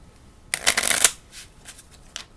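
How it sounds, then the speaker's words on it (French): A deck of playing cards being shuffled nearby, one quick riffle burst followed by a few lighter card flicks, with no speech. "tu peux mélanger le paquet de cartes"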